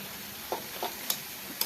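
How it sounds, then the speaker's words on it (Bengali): Kalmi greens (water spinach) frying with garlic in a pan: a soft continuous sizzle with a few light stirring clicks and taps, close by, no talking. "শাক ভাজা চলছে এটা কলমি শাক রসুন দিয়ে ভাজছি"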